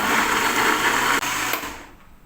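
A kitchen blender grinds spices with a little water for a chicken and egg semur, giving a loud, steady high whir that runs alone for about two seconds before winding down.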